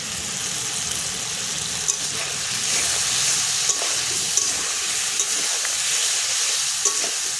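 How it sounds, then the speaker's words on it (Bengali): Turmeric frying lightly in oil for a thin fish curry, a loud continuous hiss and crackle close up with occasional sharp spoon taps against the pan. "হলুদ দিয়ে একটু হালকা একটু ভেজে নেব"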